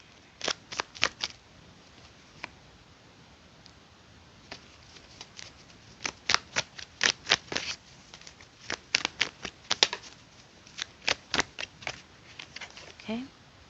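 A rapid run of crisp paper snaps and riffles as a tarot deck is shuffled, coming in quick bursts with short pauses, close and fairly clear.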